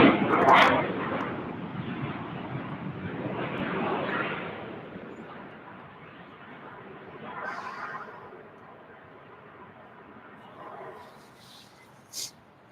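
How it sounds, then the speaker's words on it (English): A Boeing 737-800 arriving at Salt Lake City airport gives a broad jet roar that is loudest at the start and then fades into a distant rumble, with a brief sharp sound near the end. "Checking out this 737-800 arriving."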